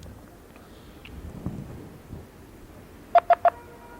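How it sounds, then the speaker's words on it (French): A telephone ringing on an incoming call: three short, bright, evenly spaced ring bursts close together near the end, after a stretch of quiet low room noise. "Je pense que ça sonne."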